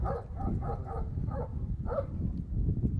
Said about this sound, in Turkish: Zaten şu bölgede bir geveze köpek